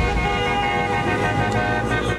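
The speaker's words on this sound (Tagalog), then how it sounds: "Sabay-sabay na bumusina sa tapat ng tanggapan ng LTFRB ang may 100 van at AUV" About 100 vans and AUVs honk together in protest outside the LTFRB office, a loud sustained blare of overlapping horn tones with street noise underneath.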